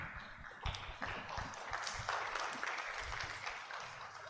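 Audience applause for a professor at a sports communities seminar, a moderate patter of clapping from a modest crowd, steady and fairly close for several seconds without talk.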